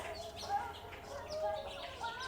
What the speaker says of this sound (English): Love hearing all those birds.